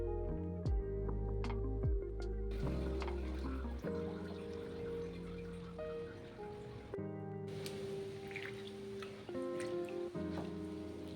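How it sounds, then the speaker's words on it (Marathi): Water sloshes and drips steadily as lentils are rinsed by hand, with wet squishing and splashing close up and continuous throughout. "ही डाळ आता मी 4-5 पाण्याने स्वच्छ धुवून घेतलेली आहे"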